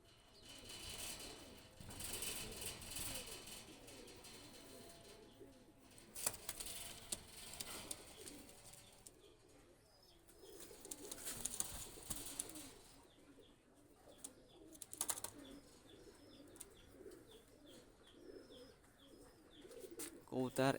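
Pakistani high flyer pigeons coo softly, low and muffled calls repeating at a distance, with someone talking over them throughout.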